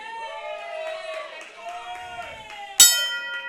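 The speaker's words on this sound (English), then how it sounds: "calls for the bell" A single sharp wrestling ring bell clang rings out late, bright and ringing on, following crowd noise and a voice over a sustained tonal background.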